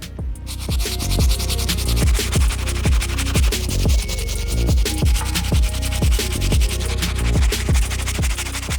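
Stiff bristle brush scrubbing the outsole of a Nike Air Yeezy 1 Tan sneaker, a steady run of loud, rhythmic back-and-forth scratchy strokes, close up and continuous with no talk.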